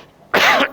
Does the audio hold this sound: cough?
yes